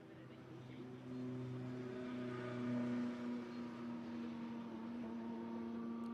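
Endurance race cars pour over the start-finish line at Spa during a 24-hour race, their engines blending into a sustained, droning pack note that swells and fades slightly.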